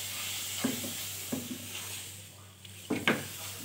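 Milk is stirred into a white sauce in a pan with the stove turned off, making soft, irregular scraping strokes and light taps of a spoon against the pan over a quiet background hiss.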